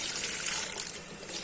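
Running tap water rinses an item in a container during DIY laser-cut PCB making, heard as a brief, steady hiss and trickle of flowing water, close and moderately quiet.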